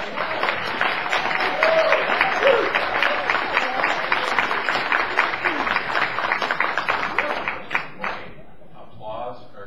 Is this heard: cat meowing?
no